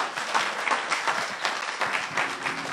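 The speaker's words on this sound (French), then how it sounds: "Applaudissons pour Jésus-Christ." A church congregation at a Sunday service claps in a sustained, even round of applause, many hands close together without a break.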